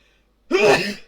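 A single loud, close sneeze bursts out after a short quiet pause, sharp at the start and trailing off briefly.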